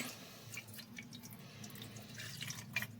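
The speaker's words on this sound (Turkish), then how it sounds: "Kral suyumuz önceden hazırdı zaten. Üstüne döküyoruz." Aqua regia poured over salvaged motherboard rear-panel port parts, a faint, quiet trickle and drip of liquid with small splashes over a low steady hum, no voices.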